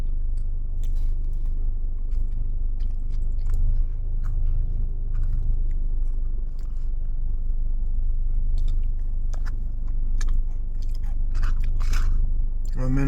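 Crunchy biscuit topping on a chicken burger, with caramel underneath, being chewed close to the mic, a steady run of crisp bites and crunches lasting the whole stretch.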